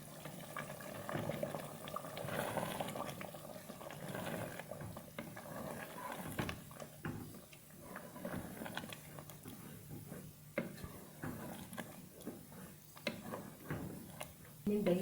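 Yogurt and meat sizzle and bubble in a pot while cooking aloo gosht, a soft irregular crackle and clatter of stirring heard faintly and close.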